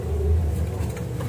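A domestic pigeon coos in a low, soft murmur over steady background noise, heard alone without talk in a brief moment.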